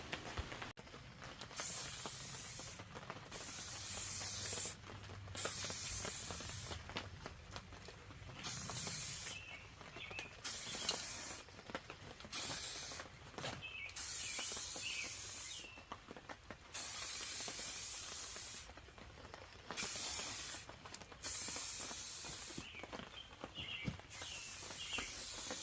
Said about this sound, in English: it's time to start spraying the primer